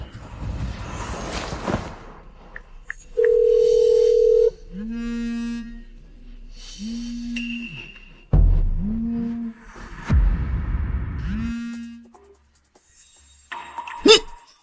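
A steady electronic phone tone sounds briefly, followed by a series of evenly spaced, repeating ringback tones with short gaps, mixed with a few other noises.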